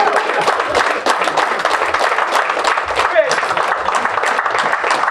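Dense applause from a banquet audience honoring football alumni, steady clapping throughout with a voice speaking over it.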